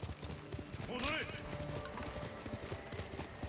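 Horse hooves clip-clop steadily in a video game, and a horse whinnies once partway through while people talk over the game sounds.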